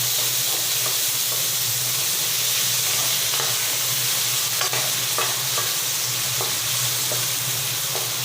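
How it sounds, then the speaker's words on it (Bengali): Spices such as turmeric and sugar fry in a pan with a steady, loud sizzle, while a spoon stirs and scrapes at intervals; no one talks. "একটু ভাজা ভাজা করে নেবো"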